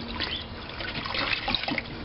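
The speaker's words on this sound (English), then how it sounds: "But let's put the water in there that we got here." Water is poured into an electrolysis rust removal tank holding metal parts, a continuous close splashing trickle with small burbles and no talking.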